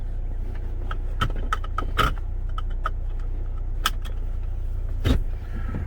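Saab 9-3 Sport Combi wagon with a 2.0 turbo four-cylinder, running while being driven: a steady low engine and road rumble inside the cabin, broken by scattered light clicks and rattles.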